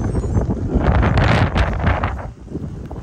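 Strong wind buffets the microphone while someone cycles through busy London streets, a loud, rough, gusting roar that rises and falls throughout.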